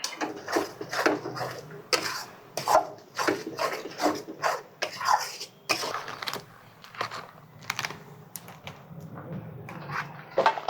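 Tomato, ginger and green chilli paste stirred in a pan for a paneer dish, with steady repeated scraping and clattering strokes of a spoon against the metal, close and fairly loud.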